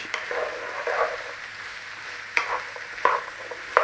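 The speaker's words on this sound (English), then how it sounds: "we are actually going to deglaze this pan at the same time with this veg" Vegetables sizzling in a pan during deglazing for a red wine jus, a steady close hiss with a few sharp utensil scrapes and taps near the end, no one speaking.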